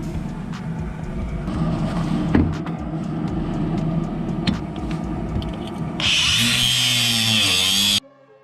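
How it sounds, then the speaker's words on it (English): Grinder cutting down a seized Nissan sway bar link, a steady loud broadband grinding roar through most of the span that turns harsher and brighter near the end before stopping abruptly. "now we'll just grind that down a little bit more."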